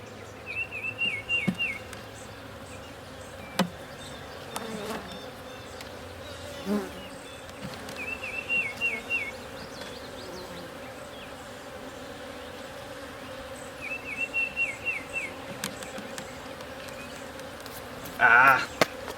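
Honey bees buzz around open beehives being inspected in May, their whining hums coming and going in short bursts over a low, steady outdoor background, with occasional clicks and knocks.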